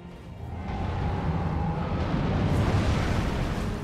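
A fire giant boss in the Elden Ring video game hammers the warrior Alexander into the ground, a loud sustained rumbling roar of impact and eruption that swells and holds steady throughout.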